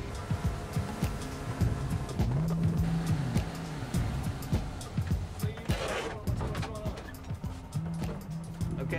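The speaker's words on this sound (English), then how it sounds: "Okay, let me turn off the engine." A boat engine runs steadily on a bay at Apalachicola, a continuous loud rumble with people talking over it throughout.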